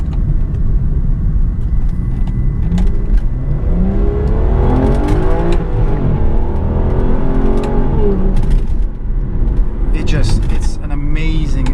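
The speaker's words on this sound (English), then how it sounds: "Listen to that. The V12, man," An Aston Martin Virage V12 revs up from inside the cabin, its engine note rising loud and sustained and sweeping upward in pitch, with a voice speaking over the drone.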